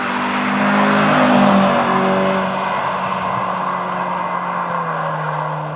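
A Honda Accord Euro Type R with a front limited-slip differential driving hard on country roads, its engine note loud and close with rising and falling pitch as it pulls through gears and bends.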